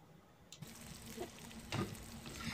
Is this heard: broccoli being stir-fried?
yes